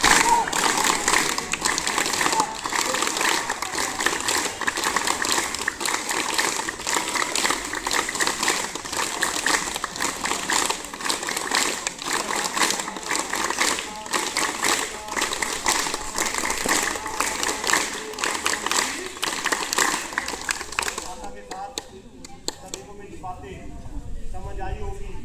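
Children in a school hall clapping together in a long, steady, dense roar of applause that keeps an even loudness before fading into quieter room noise near the end.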